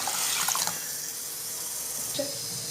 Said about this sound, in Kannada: ಈಗ ನೀರು ಹಾಕುವ